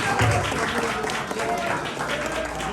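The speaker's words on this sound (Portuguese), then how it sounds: "Aplauda o Senhor Jesus." Church congregation clapping during a Portuguese-language service: dense, continuous applause filling the room, with voices mixed in over it throughout.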